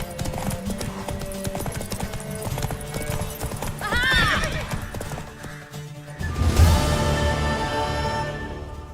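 Horse hooves clip-clopping in a steady rhythm in The Witcher 3, joined by a whinny and a louder clattering burst near the end, amid game background sounds.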